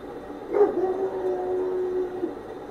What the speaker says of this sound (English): there is the dog outside barking